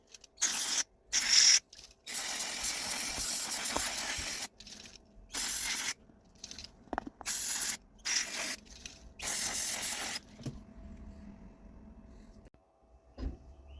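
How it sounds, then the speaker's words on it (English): Carb cleaner hisses from an aerosol can onto carburetor parts from a 2001 Kawasaki ZX6R in a series of sharp, close bursts of spray, followed by quieter clicks and small handling noises. "give it a spray out with some carb cleaner"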